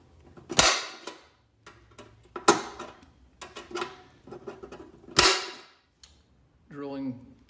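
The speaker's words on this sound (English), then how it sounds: "I'm going to mark the centers of the hinge holes with an" Several sharp, snappy metallic clicks of an automatic center punch marking hinge-hole centers on sheet metal, spaced a second or two apart, with quieter handling noises between them.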